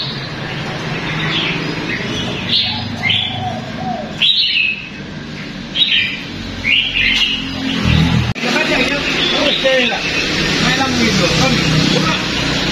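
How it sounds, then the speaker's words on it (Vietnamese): Small white-eye songbirds in a busy bird shop give repeated bright chirps and short twittering calls, scattered through the clip over steady shop background noise, with people talking nearby. "Con được hai con chim khuyên."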